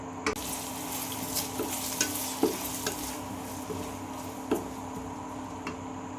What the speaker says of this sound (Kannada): ಈರುಳ್ಳಿ ಹಾಕಿ ನೀಟಾಗಿ ಮಿಕ್ಸ್ ಮಾಡಬೇಕು